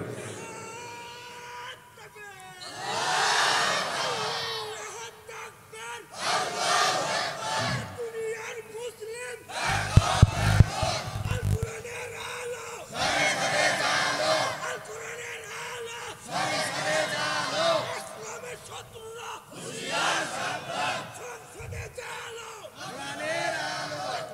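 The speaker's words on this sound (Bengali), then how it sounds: "যদি খন খুশি তাহলে জোরে একটা তাকবীর দিতে হবে, জোরে তাকবীর দিতে হবে" Large gathering at an outdoor Islamic sermon in Gaibandha loudly chanting takbir in repeated surging waves, alternating with someone speaking over a public address system.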